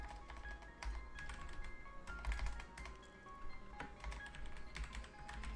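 Rapid, quiet clicking of a computer keyboard as someone types during a Minecraft session, with irregular bursts of keystrokes and brief pauses between them.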